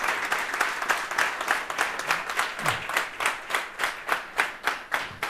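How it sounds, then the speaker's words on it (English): An audience at a session gives a rapid round of applause, dense overlapping claps in a steady rhythm that stay fairly even in loudness from start to finish. "let's all give a big round of applause"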